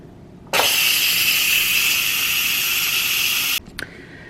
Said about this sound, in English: flip this to venting and let all the pressure release